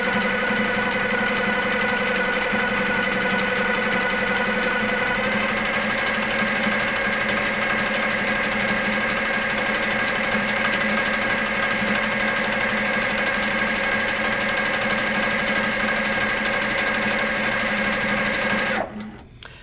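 Sewing machine stitching a quilted feather design, running at a steady, continuous hum with a fast, even needle rhythm close up, stopping abruptly near the end.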